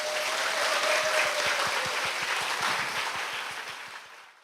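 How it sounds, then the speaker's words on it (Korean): An audience in a church program applauds to welcome a pastor's wife as a guest, a warm, sustained round of clapping that swells and then gradually fades out. "박수로 모시겠습니다."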